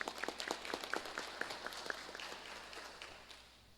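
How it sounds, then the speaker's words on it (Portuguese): Scattered clapping from a small gathering at a parish community meeting, faint and uneven, starting with a few distinct hand claps and fading out over a few seconds. "uma salva de palmas"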